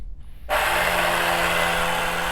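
A Turin DF83 coffee grinder grinds coffee beans for a V60 pour-over, starting abruptly after a brief quiet moment and then running as a loud, steady motor whir with no talk over it.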